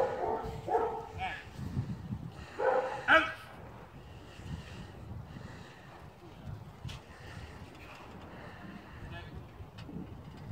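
A household dog barks and yips in a few short bursts near the start, then its sounds fade into a busy background while people talk throughout.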